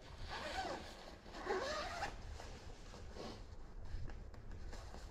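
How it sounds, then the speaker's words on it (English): A full-length zipper on insulated cold-weather whitetail hunting pants is pulled open in a few drawn-out, raspy strokes, close and clear with no talking. "unzip them all the way down."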